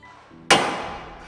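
A single sharp hammer strike on a center punch marks a drilling point in sheet metal during a Vespa engine build; a loud metallic impact rings out and decays over about a second.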